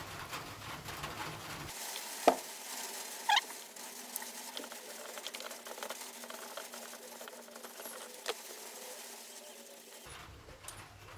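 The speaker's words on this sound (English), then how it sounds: "As you can hear, that's started to rain now." Steady pattering rain with a soft hiss throughout, punctuated by a couple of sharp clicks or drips, with no voices, during outdoor work on a Ford Mondeo Mk3 ST220.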